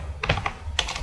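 Keystrokes on a computer keyboard as a command is entered during a Laravel 9 project setup, with two short bursts of rapid, close clicking separated by a pause.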